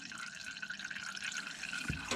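Used motor oil drains from a car's oil pan into a Keurig coffee maker reservoir during a home oil change, a steady trickling, dripping pour heard up close with no talking.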